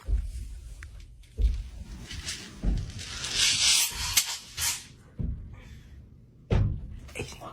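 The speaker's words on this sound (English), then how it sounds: "they were woken to the sounds of someone or something banging on their closet door" Several heavy, irregular thuds bang against a closet door, with scraping and rubbing sounds in between the knocks.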